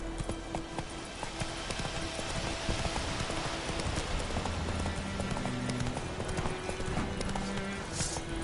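Roach, the horse in The Witcher 3, clip-clops steadily throughout under a dense game soundscape with rain-like hiss, while occasional voices are faintly present.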